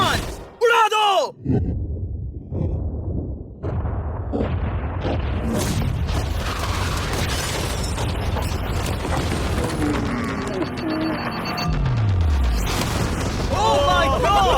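A yacht blown up in a staged challenge: a loud booming blast and roar swell up, followed by rumbling, falling debris and groaning noise over a long, dense stretch.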